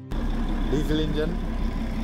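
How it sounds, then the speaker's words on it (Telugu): A train's diesel engine idles at a station with a steady low rumble that starts abruptly and runs throughout, while people talk nearby. "diesel engine"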